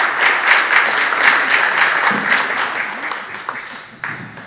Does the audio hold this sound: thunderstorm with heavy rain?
no